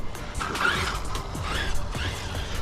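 A Team Corally Kagama RC car on a Hobbystar combo drives on its first run, its electric motor whining up and down in pitch through several quick accelerations, with tires scuffing and skidding and no voices.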